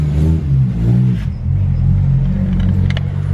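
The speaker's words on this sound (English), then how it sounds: "They just know the sound of my engine" A Nissan V35 engine idles with a steady low rumble, swelling briefly as it is revved near the start, then settling into a constant drone up close.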